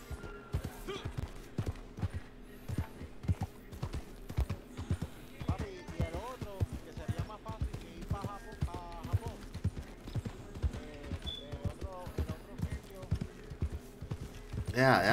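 Horse hooves galloping in Red Dead, the video game, a steady rapid clip-clop rhythm running throughout at moderate loudness, with people talking over it.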